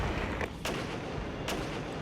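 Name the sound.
artillery fire in the video game Regiments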